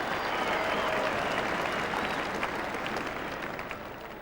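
Football crowd at the WAFL 2000 Grand Final between East Perth and East Fremantle applauding a player, a broad steady wash of clapping that tapers slightly toward the end.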